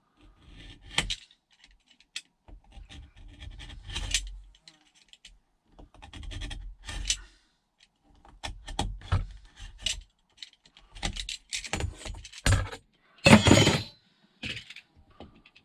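A blade saws and scrapes through a leather belt in irregular bursts of rough rasping and scratching, close up, with pauses between strokes and a louder, sustained cut near the end.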